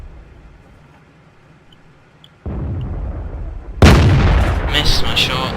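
A heavy tank cannon fires in World of Tanks, a Tier VI Russian heavy, with a sharp loud blast near the end over steady engine rumble, after an earlier step up in low noise.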